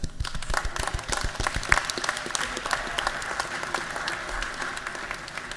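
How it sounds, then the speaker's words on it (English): A crowd applauds steadily, dense clapping filling a large room, sustained and even for several seconds. "I think we owe you a round of applause."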